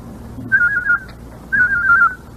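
A person whistles an imitation of a tufted titmouse call, two clear rising-and-wavering phrases in quick succession, close and fairly loud over a low room hum.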